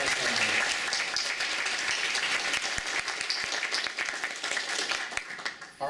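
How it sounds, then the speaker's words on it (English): A convention crowd at a player summit applauds steadily, dense clapping from many hands filling the whole stretch at an even, loud level. "Let's give them a round of applause."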